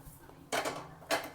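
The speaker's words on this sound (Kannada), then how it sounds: "ಒಂದು ದಪ್ಪ ತಳೆ ಇರ್ತಕ್ಕಂಥ ಬಾಣಲೆ ಇಟ್ಕೊಳ್ರಿ." A heavy-bottomed kadai is set down twice on a home kitchen stovetop, two fairly loud metallic clunks about half a second apart over quiet background, with no talking.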